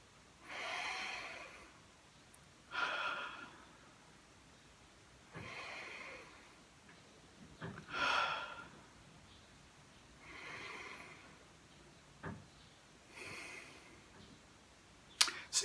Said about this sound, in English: the simple but powerful technique of deep breathing